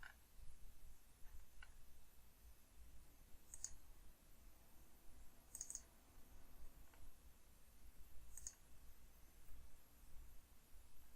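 A few sharp, isolated mouse clicks, quiet and spaced seconds apart over a low steady background hiss.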